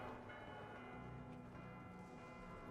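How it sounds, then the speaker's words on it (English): In the video game The Outer Worlds 2, bells ring softly in a sustained, tonal chime that lingers evenly and stays faint against a quiet background. "those bells are so annoying"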